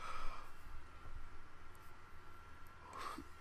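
A person yawns softly and close by. A faint, drawn-out breathy exhale with a brief voiced tone at the start is followed by another similar tone near the end, with no speech.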